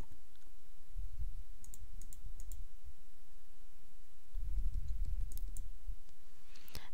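Computer mouse clicks while options are selected in an online course registration form, a few sharp, close clicks scattered over a quiet room hum with soft low thumps.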